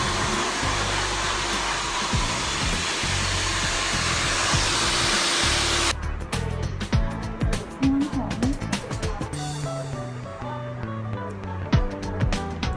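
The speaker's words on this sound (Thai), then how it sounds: "ขั้นตอนต่อไปคือการเป่าผม" A hair dryer blow-dries hair at a beauty salon. Its loud, steady, close blowing roar runs for about six seconds and then stops, followed by rustling handling noises and quieter background sounds.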